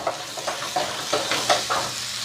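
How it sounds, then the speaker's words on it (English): Escarole sautéing in garlic oil in a pot makes a close, crackling sizzle, broken by quick rhythmic stirring strokes against the pot. "we're going to saute down some of that escarole"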